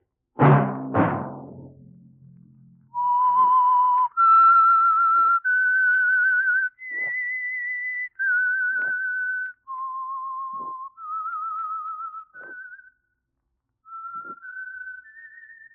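A short burst of noise gives way to a clear whistled melody, the signature theme of the 1948 radio drama The Whistler, sustained notes stepping up and down in pitch with short breaks between phrases.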